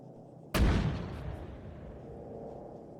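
An artillery gun fires once in the Arma video game, a single heavy boom that strikes hard and then rolls away in a long low rumbling tail.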